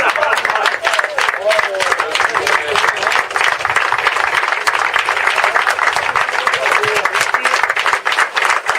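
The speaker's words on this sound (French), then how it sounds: "Je crois que vos applaudissements nourris témoignent de toute la sympathie que vous pouvez avoir" A crowd at a running-race award ceremony in Balaruc-les-Bains claps in long, sustained, dense applause, loud and even throughout, with voices mixed in beneath.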